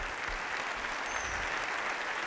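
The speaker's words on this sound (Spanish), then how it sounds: "Un aplauso para ellos." Steady audience applause at an ideas conference in Puebla, dense and even throughout with a faint cheer, no speech over it.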